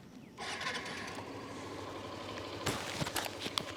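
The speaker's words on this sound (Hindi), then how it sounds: "अब सुनिए जूम 125 का आवाज़।" A Hero Xoom 125 scooter engine kicks into life after a brief quiet moment, then settles into a steady, close idle with a few small rattles near the end.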